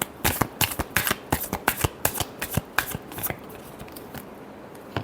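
A deck of tarot cards is shuffled by hand in a quick run of crisp riffling slaps. The shuffling is close and fairly loud, then fades into a softer rustle at the end.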